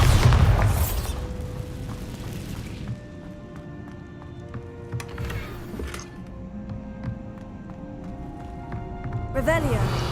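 Confringo and Bombarda explosion spells in the Hogwarts Legacy video game go off as several booming bursts, one loud at the start, more midway and a final blast near the end, with a voice speaking between them.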